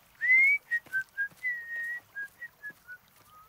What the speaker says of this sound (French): ce que tu siffles